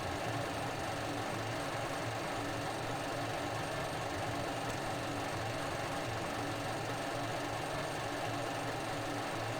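Simulated F-16 jet engine spooling up during a ramp start in Falcon BMS, a steady dense whine and rumble that holds continuously at moderate level with no talking.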